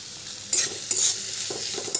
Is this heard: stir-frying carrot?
yes